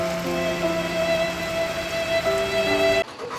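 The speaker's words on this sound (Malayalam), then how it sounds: "കട്ട മഴയായി" Heavy rain falls as a dense, steady hiss under background music, continuous and fairly loud before cutting off sharply near the end, with no voices.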